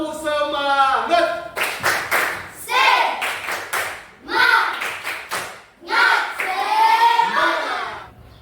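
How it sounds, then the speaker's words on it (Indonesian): Schoolchildren in a classroom perform a rhythmic spirit clap, bursts of hand claps in a patterned beat mixed with their chanting voices. "sekarang semuanya tepuk semangat"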